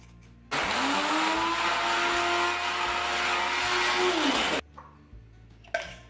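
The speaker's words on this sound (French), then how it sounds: "je vais les mixer en poudre dans un petit robot là que j'ai ici" A small electric food processor grinds dry ingredients into powder, a loud high motor whine that starts abruptly, holds steady for about four seconds, then cuts off with a short rattle.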